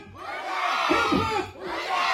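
A crowd at a Paithani game show event shouts together in a loud, drawn-out group cheer, voices rising and swelling before a brief dip and a second burst.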